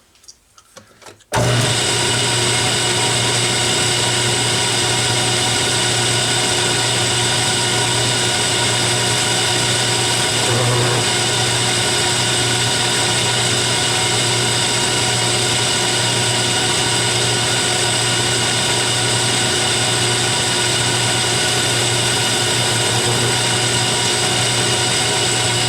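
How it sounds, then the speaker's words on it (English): A metal lathe chamfering the edges of a tailstock die holder, running with a steady loud motor hum and whine that starts abruptly and continues unbroken, with faint cutting noise over it. "While I'm still set up here, I'm going to take and just chamfer both edges."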